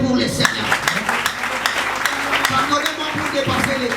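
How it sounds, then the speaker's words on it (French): A church congregation claps during a Sunday service, a steady wash of applause mixed with voices and talk throughout. "Applaudissez pour les Seigneurs."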